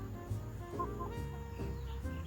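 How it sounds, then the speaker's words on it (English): Chickens in a rural Chinese village cluck in short, irregular bursts close by, quiet overall with a low background hum. "Bringing some leftover rice to the neighbor's chickens, and look who escaped."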